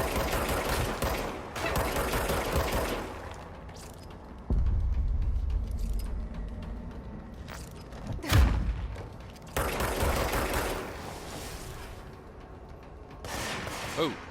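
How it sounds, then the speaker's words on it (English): Gunfire in the video game Control: rapid bursts of shots and sharp impacts come in clusters, with a heavy thud and one loud crack partway through, and a voice speaks between the volleys. "Who the fuck is shooting at me?"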